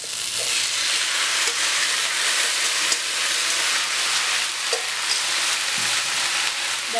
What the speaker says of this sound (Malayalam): ഇനി ഇതിനകത്തേക്ക് നമുക്ക് ഇവിടെ വേവിച്ച് വെച്ചിരിക്കുന്ന കടലയും കായും ഇട്ട് കൊടുക്കാം.